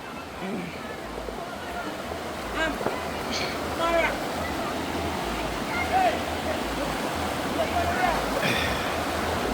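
High river water roars steadily at Cherry Hill Falls while people talk nearby at a riverside cookout, with occasional louder bursts over the constant flow.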